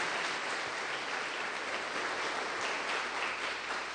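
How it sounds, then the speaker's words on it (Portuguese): Church congregation applauding Jesus during a Portuguese-language evening prayer service, a steady wash of many hands clapping at moderate level throughout, no voices standing out. "dê uma salva de palmas para o Senhor Jesus"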